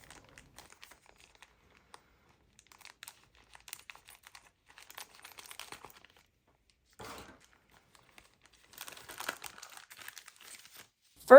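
Plastic packaging of a thrifted pin cushion kit being crinkled and torn open, scattered quiet crackles and rustles in irregular bursts, close up, with no talking.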